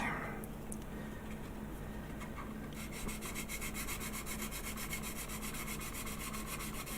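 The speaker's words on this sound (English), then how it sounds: "So we're just going to go over it with a sanding stick." A sanding stick smooths a seam gap on a resin model kit part, giving a steady, close, rasping rub that carries on throughout, growing slightly brighter and denser partway through, with no talk over it.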